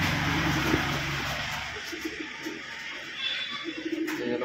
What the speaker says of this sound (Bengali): একদম হাতবাজি পায়রা।